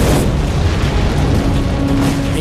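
A powerful matter-antimatter energy blast rendered as an explosion sound effect: a loud, sustained rumbling boom that fills the whole stretch with dense low roar and no pauses.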